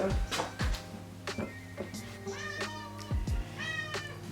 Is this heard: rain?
no